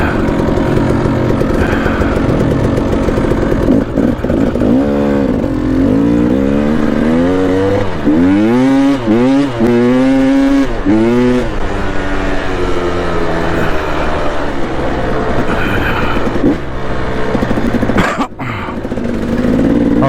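Two dirt bikes, a KTM 300XC and a Yamaha YZ450FX, ride a trail at Five Mile Pass, Utah, their engines loud and close throughout, with repeated revving swells, rising and falling pitch through the middle, and a brief cut near the end.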